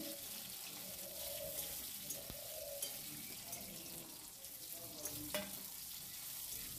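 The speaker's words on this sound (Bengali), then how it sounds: "এগুলোকে হালকা করে ভেজে নিচ্ছি।" Chopped tomato, garlic and onion fry in a pan with a faint, steady sizzle and occasional soft stirring scrapes, heard quietly and alone.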